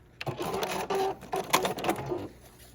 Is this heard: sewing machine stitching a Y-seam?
yes